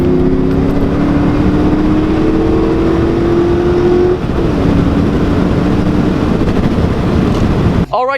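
A car fitted with a new JBA off-road H-pipe exhaust drones loudly under acceleration, its pitch rising steadily for a few seconds before it settles into a rough, windy rush of road and exhaust noise.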